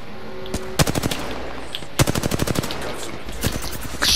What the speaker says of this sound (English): I hit every single bullet of an R99 from like really far away.